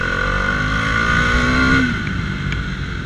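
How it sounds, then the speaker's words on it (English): A Bajaj Dominar 400 motorcycle engine revs up under acceleration, its rising whine climbing steadily before easing off after about two seconds, heard up close with no speech. "The 35 newton meters of torque is pulling the bike in every gear."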